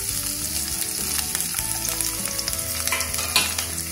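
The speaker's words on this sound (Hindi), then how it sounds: "जीरा भुन गया है, अब इसमें प्याज लहसुन हरी मिर्ची भी डाल देंगे।" Onion, garlic and green chili frying with cumin seeds in hot oil, a steady close sizzle and crackle with occasional stirring scrapes, no talking.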